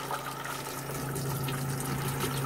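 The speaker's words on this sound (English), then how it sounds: "a little flush of water, because the blue will stain, so just get rid of that" Water flushes into a motorhome toilet cassette during emptying and cleaning, a steady rushing, trickling flow with a faint underlying hum, continuous and moderately quiet throughout.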